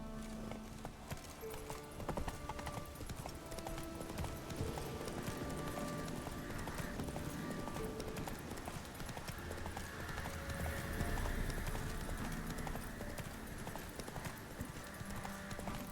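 Hoofbeats of the horse Roach galloping in The Witcher 3, a rapid continuous clip-clop rhythm over ambient game sound, with a whinny partway through and faint voices underneath.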